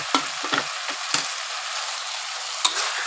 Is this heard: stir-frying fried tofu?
yes